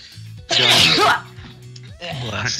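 A single loud, explosive sneeze bursts out, followed by a quieter stretch and then a second breathy burst of noise.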